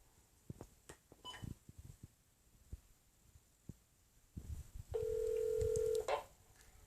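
Telephone dialing tones ring out while a call is placed, a series of short, faint beeps followed by one longer sustained tone, amid quiet handling noise.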